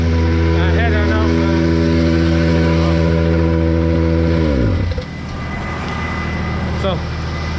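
A farm tractor used for spreading slurry on a wet July day runs at a steady, loud idle close by, then its engine winds down and cuts off, leaving rainy background noise.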